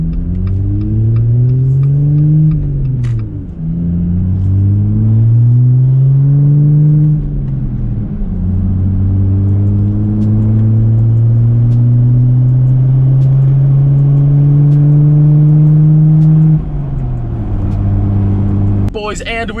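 A brand-new Jeep Gladiator with its exhaust straight-piped drones loudly while driving, its engine note climbing through revs and dropping at each gear change, then holding a long steady cruise.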